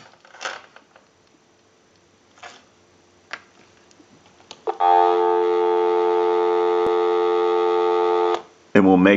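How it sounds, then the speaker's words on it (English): A few faint clicks, then a loud, steady dial tone from a Western Electric 2554 telephone holds for about four seconds before cutting off into a short burst of another sound. "Go ahead and give you some dial tone."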